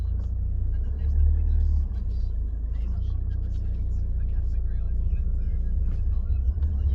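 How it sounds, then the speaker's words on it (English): A 2012 Honda Accord 2.2 i-DTEC diesel with a six-speed manual gearbox drives along, its engine and road rumble a steady, heavy low drone inside the cabin, briefly swelling early on, while someone talks throughout. "So let's take this car for a little drive."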